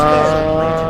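A Mazda Miata spinning out on an autocross course gives a brief, loud tire squeal with a sliding pitch over the strained roar of the engine.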